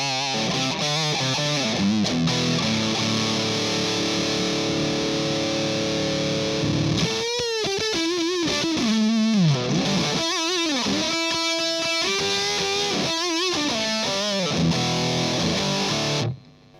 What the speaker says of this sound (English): So that's a distortion all the way up.